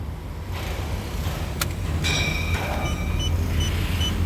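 Continuous low rumble of passing road traffic, an engine droning nearby, with faint higher whines and clicks mixed in.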